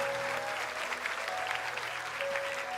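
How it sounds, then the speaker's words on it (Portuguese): A crowd claps steadily to welcome a pastor at an Easter church musical, an even, continuous round of palms without talk. "vamos recebê-lo aqui com a salva de palmas"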